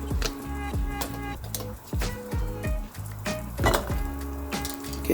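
Spoon stirring no-meat chili in a pot, with repeated scraping and clinking strokes over a low sizzle, steady and close, no voices.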